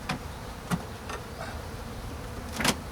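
Honeybees buzz faintly around an opened hive during an early spring inspection, with a low steady drone broken by a few sharp knocks and clicks of equipment.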